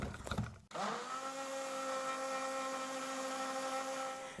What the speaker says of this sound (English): now I'm going to go back to the stick blender just to bring it up to a nice light to medium trace